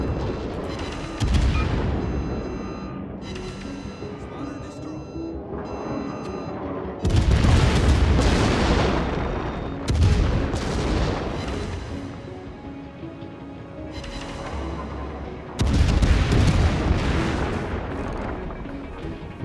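Naval guns in a World of Warships match fire in heavy booming salvos, with four big blasts at roughly even spacing, each trailing off into a long rumbling decay amid continuous battle noise.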